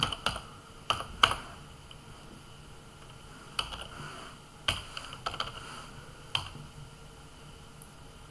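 Python code being typed on a computer keyboard, heard as sparse, close key clicks coming in small bursts and single taps with quiet gaps between them, no talking.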